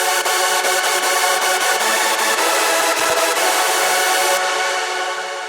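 A bright, dense synth lead carries the melody of a hardstyle remix of Santiano, sounding loud and continuous with steady rhythmic pulses throughout, then thinning slightly near the end.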